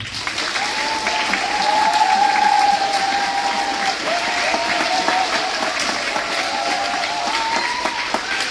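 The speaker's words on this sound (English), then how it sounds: "One more round of applause for them." A loud, sustained round of applause from students at a school student government election assembly, thick clapping with a faint whistle-like tone running through it.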